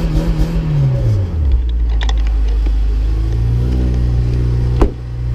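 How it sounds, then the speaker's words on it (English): A supercharged Honda Civic engine rumbling close by, a falling tone settling into a steady low drone with a sharp knock near the end, no talking. "the engine makes a good amount of noise with the supercharger, especially at a wide open throttle"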